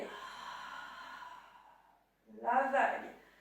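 Long audible breath during a Pilates exercise: a drawn-out airy exhale fades to silence, then a quicker, louder breath follows, close and clear with no talk over it.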